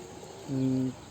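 A single short, steady pigeon coo sounds near and clear for about half a second from a flock of roughly a hundred and fifty birds, set against quiet room tone.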